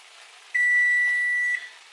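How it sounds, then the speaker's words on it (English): A single steady electronic beep from a kitchen timer sounds for about a second while making beignets, clear and close, against a quiet background. "Oh, timer's off."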